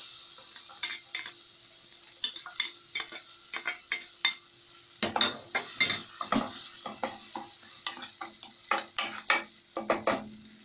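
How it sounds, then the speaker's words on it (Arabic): Onion frying in about four spoons of oil in a cooking pot on the stove, a steady sizzle broken by repeated scraping stirs and clinks of a utensil against the pot, close and with no voices. "ومعانا الحلة هي على النار، حطينا فيها بتاع 4 معالق زيت، وهنحط البصلة"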